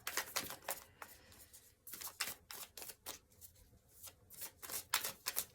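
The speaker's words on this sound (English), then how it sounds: "I'm just going to start shuffling." Cards are shuffled in quick riffling bursts, a soft crisp flutter repeating in short runs, close and quiet with no talking.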